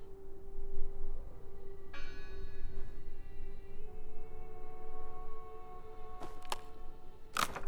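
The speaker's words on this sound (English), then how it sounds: "I heard the bell." A church-like bell rings in the game Draugen, a single clear struck tone that lingers and fades, followed by later metallic strikes, with no talking.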